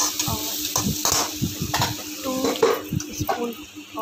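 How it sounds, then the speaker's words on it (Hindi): Hot oil sizzles and crackles steadily with cumin seeds in a kadhai, broken up by scraping and stirring clatter at close range. "मैंने कढ़ाई में तेल डाला है और जीरा डाला है"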